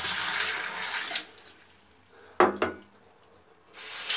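Cold water being poured into a clogged bathroom drain, with a steady rushing splash at first, then a quieter trickle broken by a couple of sharp gurgling bursts.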